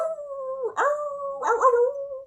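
Two drawn-out howling barks from a beagle and a small beige terrier outdoors, each rising then sliding down in a long wavering cry, fairly close and clear with no talk.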